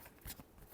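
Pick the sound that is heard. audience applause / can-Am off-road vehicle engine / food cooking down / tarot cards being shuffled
tarot cards being shuffled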